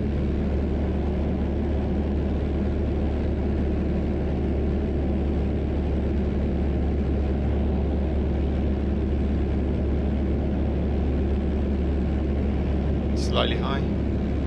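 A Piper PA28-181 Warrior II light aircraft engine drones steadily in flight on a training circuit at Fairoaks, UK, a constant loud hum throughout with a brief voice over the noise.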